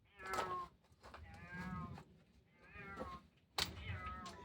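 A cat meows loudly and repeatedly at close range, drawn-out whiny cries with short breaks between them and no speech.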